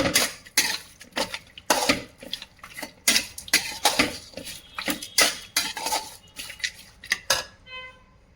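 A utensil stirs salt and turmeric into a pot for green chilli chicken curry, making a steady series of close metallic scrapes and clinks with no talking.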